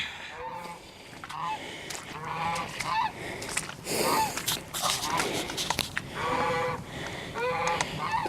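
Several geese honk repeatedly and loudly close by, overlapping calls with scuffling and rustling underneath.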